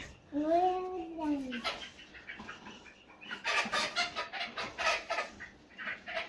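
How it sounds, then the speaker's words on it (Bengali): Small-sized local desi rooster (country chicken) calling and clucking close by, with a rising-falling crow-like call near the start followed by bursts of clucking and rustle, mixed with human voices. "এই যে এটা কিন্তু মোরগ দেশি"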